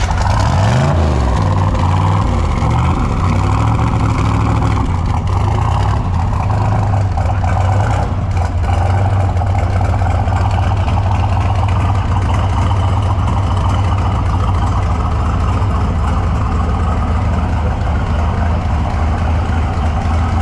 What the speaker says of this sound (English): you start a big block up like that, man, you gotta love it.